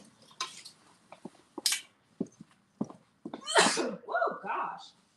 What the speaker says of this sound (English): That's making me sneeze too.